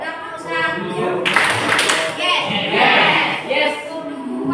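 Classroom students clap out a counted rhythm pattern on a teacher's cue, a burst of group clapping close by with a voice talking over it.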